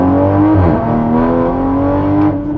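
A sports car engine revving loud and close, a strong harmonic roar that dips sharply as the gears shift, then climbs and holds steady, with no voices over it.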